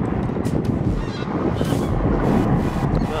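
Geese honk repeatedly on a fishing farm, loud and continuous with overlapping calls and a steady outdoor wind rumble underneath; no one speaks.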